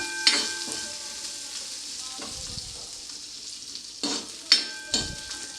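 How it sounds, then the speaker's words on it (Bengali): Chopped almonds and cashews frying gently over low heat for carrot halwa, a quiet steady sizzle punctuated by a few sharp stirring scrapes and clinks against the pan. "বাদামটা আপনারা আঁচটাকে লো করেই ভাজবেন, নইলে বাদামগুলো পুড়ে যাবে।"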